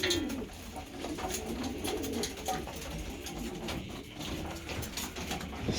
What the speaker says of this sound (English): Real pretty bird. I just wish it would fly better.